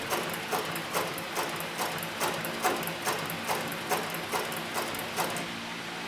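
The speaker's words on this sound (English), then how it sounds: "this right now is as slow as the motor will go, and you can see the stitching is very, very slow, very, very controlled" A CB105 sewing machine stitches slowly at its lowest motor speed, size 277 thread on top with a size 328 needle, giving a regular mechanical clack about every half second over a steady motor hum.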